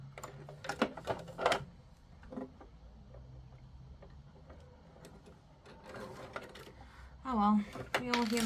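A home sewing machine stitches in short bursts after its needle has been rethreaded, quiet mechanical whirring and clicks near the end, with voices talking and handling noises earlier.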